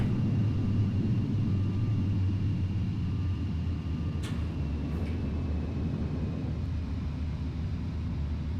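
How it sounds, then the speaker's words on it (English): A Boeing 737-832 in Delta livery in the FSX flight simulator roars with its thrust reversers just after landing: a loud, steady, dense rumble that holds without letup, with a couple of faint higher ticks partway through. "Thrust reversers engaged."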